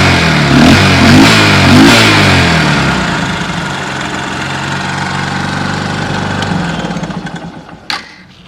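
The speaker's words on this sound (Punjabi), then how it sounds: "ਹਲਕੀ ਜੀ ਟਾਈਮਿੰਗ ਚੈਨ ਬਾਜ ਕਰਦੀ ਆ" A Honda motorcycle engine runs steadily and fairly loud, briefly revving near the start, with a light timing-chain rattle in its idle and a sharp click near the end.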